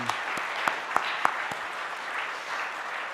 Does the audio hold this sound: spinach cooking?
no